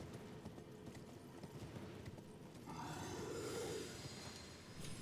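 A horse gallops in the Elden Ring video game, its hoofbeats forming a quiet, continuous rhythmic patter under faint game ambience, with a brief louder whooshing burst midway.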